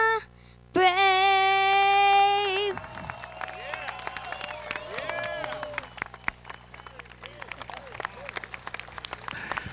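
Crowd applause and scattered cheering break out at an All-Star park celebration as a sung national anthem ends on a held note, then clapping rolls on steadily, fairly distant and diffuse.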